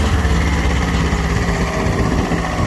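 Escort tractor engine running under load in a tractor pulling contest, a loud, steady, close diesel drone that holds without a break for the whole stretch.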